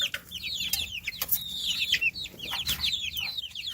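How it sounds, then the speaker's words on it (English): Baby chicks peep from inside a delivery box on a farm, a dense run of high, thin chirps coming close and fairly loud, with no talking. "Lots of new baby chicks."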